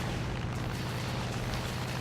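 A critical hit on a B-25 bomber's fuel tank in an arcade flight combat game sets off a continuous rumbling explosion, a loud, dense roar that holds steady throughout with no speech.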